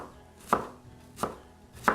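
A sharp knife chopping food on a cutting board: three crisp, evenly spaced chops, close and clear against a quiet background.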